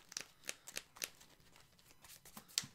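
Shuffling of a Magic: The Gathering card deck during a game with a chess clock: quiet, irregular papery riffles and clicks come in short spaced bursts, faint and close.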